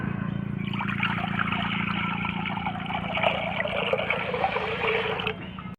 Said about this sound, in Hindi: अब ऐड करेंगे इसमें हम पानी।